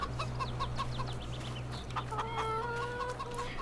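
Chickens in an enclosure in Farming Simulator 22 cluck repeatedly in short rapid bursts over a steady low farm hum, with a drawn-out crowing call toward the end, moderately close and without speech.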